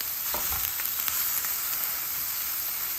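Meat patties sizzle steadily in a frying pan, a close, continuous crackling hiss with faint scattered pops, no voices.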